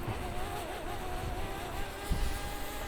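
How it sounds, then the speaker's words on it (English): Strong gusty wind buffets the microphone during a DJI Mavic Mini drone flight near a skate park, a steady broadband roar with a faint whining hum from the drone running underneath. "now the wind's really picking up"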